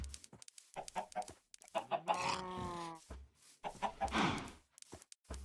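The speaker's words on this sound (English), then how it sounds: "Now we're gonna go through and grab these chickens" Chickens being caught and carried to their holding pen on a farm cluck and squawk up close in busy, irregular bursts, with some loud, drawn-out calls in the middle.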